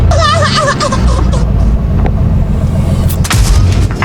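Tank cannon fire in the World of Tanks video game, a loud boom around two seconds in and another heavy blast near three seconds, over continuous rumbling engine noise and game sound effects.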